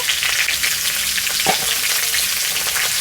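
Whole potatoes frying in oil in a pan, a dense, steady sizzle heard up close and fairly loud, with a single brief knock partway through and no voices.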